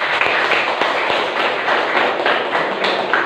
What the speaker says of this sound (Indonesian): berikan tepuk tangan untuk kita semua ya